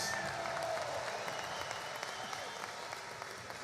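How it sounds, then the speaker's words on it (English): A crowd claps steadily for several seconds at Newcastle trophy celebrations, a dense, even patter of applause that tapers slightly toward the end. "Give Tony a round of applause."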